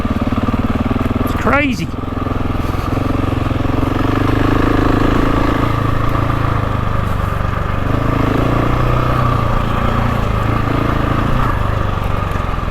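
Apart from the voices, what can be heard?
GasGas dirt bike engine chuffing in second gear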